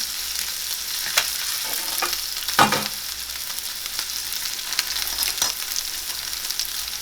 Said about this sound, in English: I'm going to go ahead and put our tempered and salted steak in the pan very gently